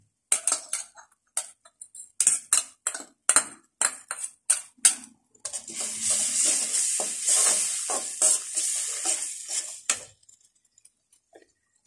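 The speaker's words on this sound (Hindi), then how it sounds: "अब आपने इतना भूनना है कि ये ऑयल और ये जितना भी ऑयल और मसाले ये अलग हो जाए" Oil and spices for mutton paya are fried and stirred in a pan: several sharp metallic spoon scrapes and clinks come first, then a loud, steady sizzle broken by repeated stirring knocks.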